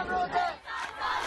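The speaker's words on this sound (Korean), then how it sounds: "가두 행진 중인 학생들이 손뼉을 치며 구호를 외칩니다" Protesting students marching in an Iranian street during the hijab protests chant slogans together, a loud, rhythmic crowd roar in two swells.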